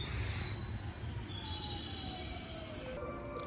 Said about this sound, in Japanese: 向こうの方に大正寺行きの、ワンマン列車がやってきました。